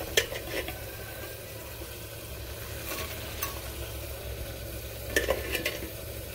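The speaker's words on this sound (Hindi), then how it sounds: "अब मैं यहाँ पे मसाला भून रही हूँ, उसके बाद सोयाबीन लेके फिर भूनूंगी।" Soybean frying with spice masala in a pan, a low steady sizzle with a few sharp utensil scrapes and clinks from stirring. Fairly quiet and close.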